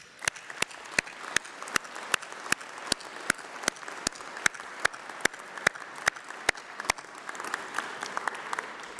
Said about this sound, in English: let's have a massive round of applause for all those special people